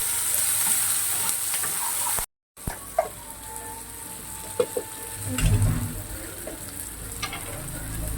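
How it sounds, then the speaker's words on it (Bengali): Masala spices with a few cashews fry in a pan with a steady, close sizzle, broken by a brief silent gap and occasional stirring scrapes. "এবার আমি মশলাটা ভালো করে ভেজে নেব।"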